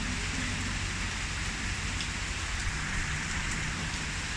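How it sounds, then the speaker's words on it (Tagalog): Heavy, steady rain pours down in a dense continuous hiss, loud and close, with no voices. "Kahit malakas ang ulan."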